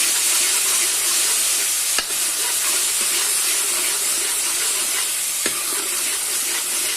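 Tomato puree cooking with spices in a pan for Amritsari nutri sabji, giving a loud, steady hissing sizzle throughout with a couple of sharp clicks and no talking.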